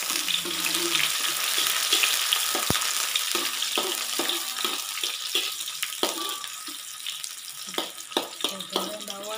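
Onions fry in hot oil in a home kitchen, a continuous bright sizzle with scattered pops and stirring clicks throughout, close and fairly loud, with no voice.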